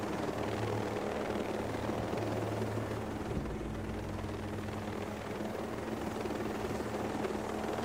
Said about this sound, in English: Helicopter in front. Can we shoot him out of the sky?